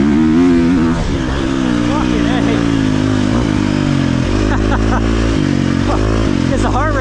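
A KTM 350 XC-F dirt bike races down an open straightaway after a cross-country race. Its engine revs hard and rises in pitch through repeated gear changes, loud and close, with a rider's voice audible over it.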